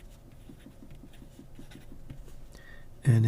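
Close, rhythmic scratching of a Pilot Metropolitan CM stub nib fountain pen across paper, rapid repeated strokes with a raspy texture, ending in a louder clunk.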